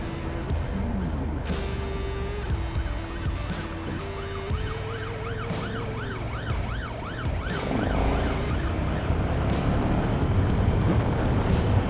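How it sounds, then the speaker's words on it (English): Wailing ambulance siren sweeps past on the road, loud and close, heard over the steady engine rumble of a 2020 KTM 1290 Super Duke R motorcycle pulled over at the roadside. "Let's pull over for this ambulance"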